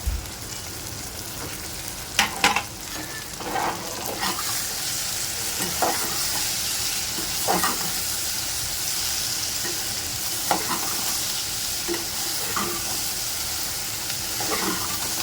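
Okra (bhindi) fries uncovered in an open pan, giving a continuous loud sizzle broken by occasional stirring scrapes and crackles.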